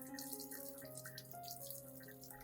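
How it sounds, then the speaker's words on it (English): Tap water runs steadily over orchid roots being washed in a sink, a continuous close splashing stream under soft background music. "When washing, gently run water around the roots and base of the plant to avoid damaging the healthy tissues."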